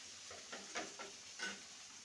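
Fried potato and pointed gourd pieces going into a pan of spiced vegetarian kakrol masala, giving a quiet, steady sizzle broken by a few soft stirring scrapes.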